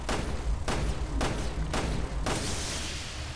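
Four loud gunshots ring out in Resident Evil Revelations 2, evenly spaced about half a second apart. A fifth, heavier blast follows, and its long rumbling decay fills the rest of the clip.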